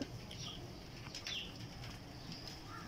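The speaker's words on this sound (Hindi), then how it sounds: "दोस्तों ये 24 कबूतर हैं" Several large pigeons flutter their wings in bursts, fairly close, over a steady low background rumble and a few faint chirps.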